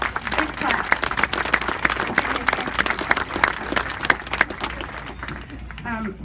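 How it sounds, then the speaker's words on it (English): An audience at a FEMA community meeting on the Valley fire applauds voluntary agencies with dense, sustained clapping close by, mixed with crowd murmur, before fading out at the end. "let's give them a big round of applause"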